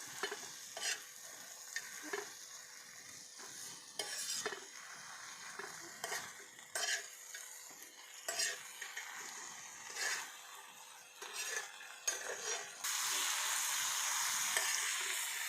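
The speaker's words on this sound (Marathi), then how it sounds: "पूर्ण शिजलं हो आता परत मिक्स करून घेऊया असं सगळं" Cooked eggplant thecha stirred in an iron pan, a soft steady sizzle under repeated scraping strokes of a spatula at an irregular pace, with the frying rising louder at the end.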